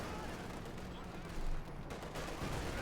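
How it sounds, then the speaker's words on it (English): Battle gunfire from Company of Heroes 2, a World War II strategy game, as a dense, continuous wash of shots with a louder burst partway through, heard under commentary. "Double shots fired there, Panther 4 down to half health."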